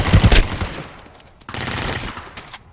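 Gunfire in the shooter game Ring of Elysium: a loud burst of rapid shots up front, then a quieter stretch and a second sustained volley of fire, with no talking.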